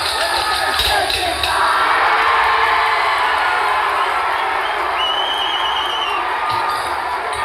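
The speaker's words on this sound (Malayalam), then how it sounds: "ഓരോ ടീമുകളും വട്ടക്കോലിൽ താളമിട്ട് തുടങ്ങിയപ്പോൾ സദസ്സിൽ നിന്നും ആരവമുയർന്നു." An audience roars and cheers continuously at a drum performance competition, a loud, steady crowd wash with occasional whoops and shouts rising above it.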